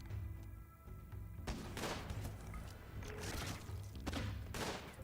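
Bursts of video game gunfire as a colonist repeatedly shoots an enemy in RimWorld, several loud volleys of shots over steady background game music.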